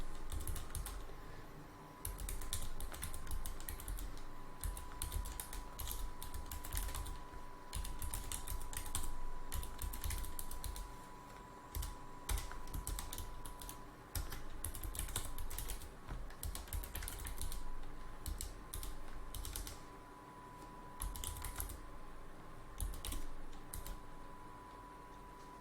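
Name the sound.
typing a terminal command on a computer keyboard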